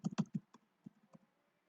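Someone typing on a computer keyboard, a quick run of close, distinct key clicks followed by a few sparser taps in a quiet room.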